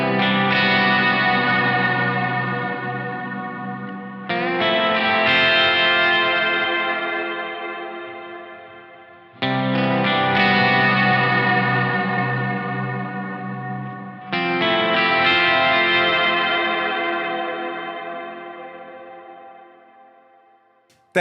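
Electric guitar strikes four long ringing chords, each left to decay, run through a Whammy pedal on its fifth setting, layering a pitch-shifted harmony for a thick, processed tone.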